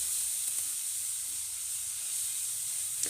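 Onions frying in a pan with ginger garlic paste added for chicken dum biryani, giving a steady bright sizzling hiss with a couple of faint clicks, close and continuous with no voices.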